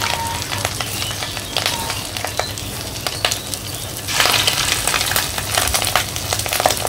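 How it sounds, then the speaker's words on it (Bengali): Small rohu fish roe fritters dropped into hot oil, a loud continuous sizzle and bubbling with scattered crackles that grows fuller partway through, no talking. "তো আমার তেলটা গরম হয়ে গেছে, ছোট ছোট করে এই যে বড়ার মতো বানিয়ে তেলে ছেড়ে দিব।"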